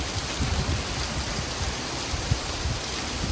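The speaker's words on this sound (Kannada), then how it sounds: "ಜೋರು ಮಳೆ ಗೈಸ್ ಸಖತ್ ಮಳೆ ಬರ್ತಾ ಇದೆ ಬೆಂಗಳೂರಲ್ಲಿ" Dense, unbroken hiss of heavy rain pouring down in Bengaluru, loud and even throughout, with no voices.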